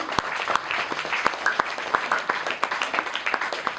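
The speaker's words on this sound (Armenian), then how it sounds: "Ես ծափահարում եմ ձեզ, սիրելի ծնողներ։" An audience of parents applauding at an event, dense steady clapping filling the whole stretch, fairly close, with faint voices murmuring underneath.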